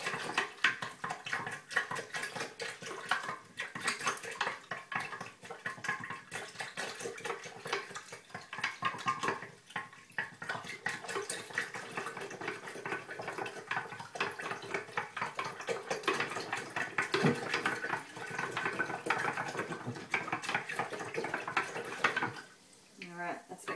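Water kefir sugar water being stirred vigorously before the grains go in, a steady wet sloshing and clinking of a utensil against the container that runs throughout, fading at the very end.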